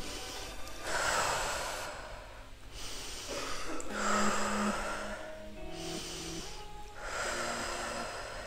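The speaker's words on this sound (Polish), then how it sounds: "robimy kilka głębokich wdechów." Several slow, deep breaths close to the microphone, each long airy inhale and exhale repeating in a steady rhythm with brief pauses between.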